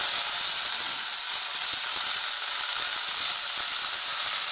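Ginger paste frying in a pan with panch phoron while Bengali shukto is cooked, giving a steady, even hiss and sizzle close by with no voices.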